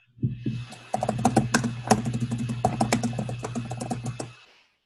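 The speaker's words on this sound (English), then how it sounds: "just type in homes for sale" Typing on a computer keyboard, a close, quick run of crisp key clicks in uneven bursts lasting several seconds, alone with no voices.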